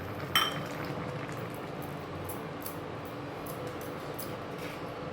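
Fish curry with black cumin, green chillies and coriander simmering in a pan, a steady low bubbling and sizzle with a small clink near the start, no talking.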